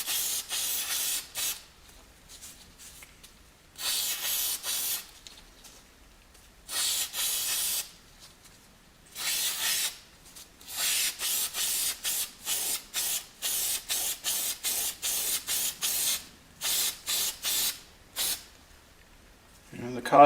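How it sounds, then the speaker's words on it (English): Repeated bursts of aerosol cleaning spray onto a CF Moto engine part, short hissing blasts separated by pauses and coming faster toward the end. "So let's give this yet another spray."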